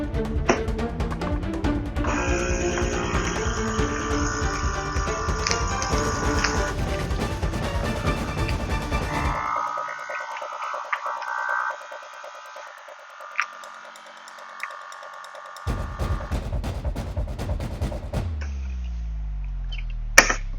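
A vacuum sealer seals a bag of seasoned London broil with a loud, steady motor hum and pump buzz that drops away mid-way, then resumes and ends with a click.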